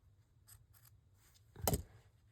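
Fabric scissors snip through quilt fabric for a junk journal cover, a couple of soft early rasps followed by one louder, crisp cut, close and with no talking.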